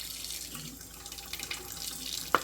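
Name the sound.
warm water running from a tap into a bowl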